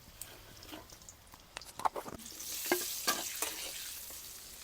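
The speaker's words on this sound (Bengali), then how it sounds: "নুন হলুদ দিয়ে আলুটা ভেজে নিচ্ছি" Potato pieces fry with salt and turmeric in a pan for a village-style crab dish, a faint crackling sizzle punctuated by a few sharp stirring scrapes.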